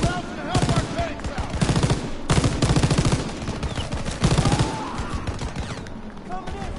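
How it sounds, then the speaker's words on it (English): Anti-aircraft gun firing in the World War II video game Call of Duty WW2, a dense stream of loud repeated bursts with booming low end, pulsing in heavy clusters over battlefield noise. "There's the AA gun. Clean up these clouds and help our tanks"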